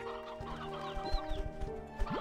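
Chickens cluck in short, repeated bursts in the Slime Rancher 2 game, several fowl close by against a faint hum of game background sound.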